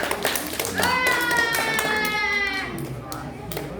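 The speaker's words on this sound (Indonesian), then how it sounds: "Tepuk tangan buat Mas Dimas juga." Applause from a gathering at a mosque youth group's break-the-fast event, scattered close handclaps mixed with voices and a sung or chanted tone running through the middle.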